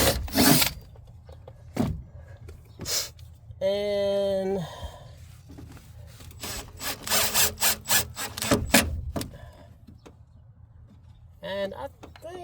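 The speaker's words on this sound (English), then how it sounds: "I'm going to re-drill this one." An electric drill whines briefly as it re-drills a hole for a Ford speaker mount, among scraping and knocking workshop noises, with a person talking nearby.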